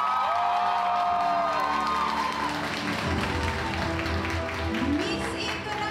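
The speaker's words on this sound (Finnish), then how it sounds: "Annetaan heille tässä kohtaa isot aplodit." Audience at a beauty pageant final applauds and cheers, dense clapping with whoops and shouts over music.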